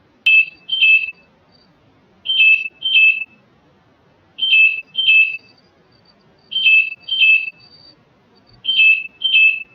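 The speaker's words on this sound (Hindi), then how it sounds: "अगर आप फ्रिज को ज्यादा समय तक ओपन करके रखोगे तो इसमें एक सेंसर अलार्म बजना स्टार्ट हो जाता है।" A Samsung convertible refrigerator's door-open sensor alarm beeps in quick double pulses, repeating in a steady pattern with short silences between each pair, loud and close.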